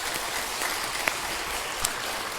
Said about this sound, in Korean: 감사 박수 한번 할까요?